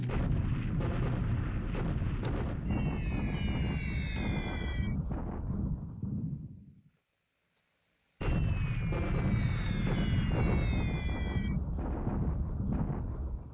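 Heavy bombing explosions from the War in the Pacific Admiral Edition strategy game rumble in two long, loud bursts with high whistling streaks above, split by a brief silent gap.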